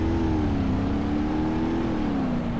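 A Ford 6.0 Powerstroke diesel engine in BeamNG Drive holds a steady high rev, a loud droning tone that dips slightly and rises again without pause.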